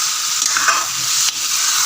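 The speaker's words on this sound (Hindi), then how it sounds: "अब हम इसमें टमाटो पेस्ट डालेंगे।" Beef frying in a karahi as tomato paste goes in, giving a loud, close, continuous sizzle with faint stirring scrapes and no voices.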